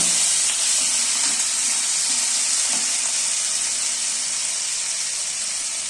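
Chopped potatoes frying in a pan, an even, close hissing sizzle that holds steady throughout with only faint stirring bumps.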